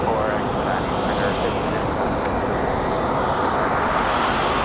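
Air France airliner departing Raleigh Durham International Airport, a loud steady roar of jet engines at close range, with faint talk underneath.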